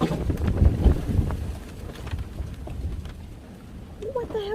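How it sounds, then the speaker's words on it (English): A sudden gust of wind blusters loudly against the microphone beside an outdoor greenhouse during spring seed starting, a broad rumbling rush that is strongest at first and then eases. "what the hell was that gust of wind?"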